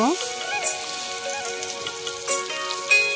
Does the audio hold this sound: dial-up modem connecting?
no